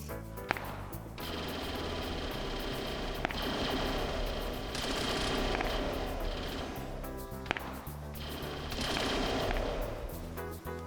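Rapid, continuous bursts of automatic gunfire in a Mandalorian LAAT mission video game, with sharp cracks layered over sustained firing, loud and close, with a few brief pauses between volleys.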